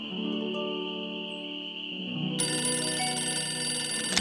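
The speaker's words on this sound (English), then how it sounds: "writing to you while I wait for the phone to ring" A telephone rings in the video game Nancy Drew: Ghost Dogs of Moon Lake, a bright electronic ring that cuts in over soft sustained background music partway through.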